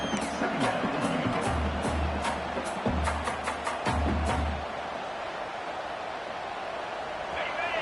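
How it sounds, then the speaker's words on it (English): A football stadium crowd roars steadily throughout with bursts of cheering, loud and dense, while a commentator talks over it. "Listen to the crowd energy here in the early going."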